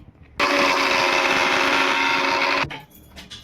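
An electric grinder whirs steadily for about two seconds, blending garlic cloves, ginger and cumin for a spicy red vada pav chutney, then cuts off abruptly.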